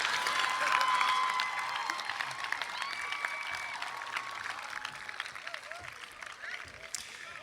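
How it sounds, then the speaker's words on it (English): Graduates at a college commencement receive sustained applause from the crowd, loud at first and then easing off slightly as it continues without pause. "Please recognize these enthusiastic graduates with your applause."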